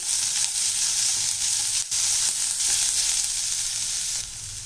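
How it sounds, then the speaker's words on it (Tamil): Carrot and onion sauté in a pan with a steady, close hiss of frying that runs unbroken throughout with no one speaking. "இப்போ இந்த கேரட்டு, வெங்காயம்லாம் நல்லா வதக்கி பாருங்கள்."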